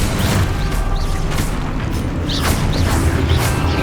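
Confringo spell blasts in Hogwarts Legacy, a dense loud barrage of booming impacts and crackling bursts with whooshing effects layered over one another, no talk.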